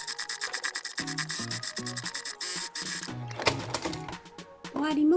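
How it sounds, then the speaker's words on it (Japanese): A sewing machine stitches the body of a reversible baby bib with a necktie detail, whirring in rapid bursts. Tonal background music plays alongside, and the machine's rhythmic clatter stays close and prominent. "それではスタイの本体縫っていきます。"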